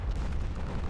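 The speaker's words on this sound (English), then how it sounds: "Where did that torpedo come from?" A torpedo explosion in the naval warfare game Ultimate Admiral Dreadnoughts, a short, dense, rumbling low boom that rolls on with no break and no voices.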